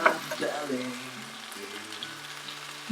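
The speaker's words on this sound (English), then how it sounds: "now what we're going to do is we are going to flip these cheese side down" Chicken tacos fry cheese side down in butter and oil, giving a steady close sizzle with crackling pops and a low background hum.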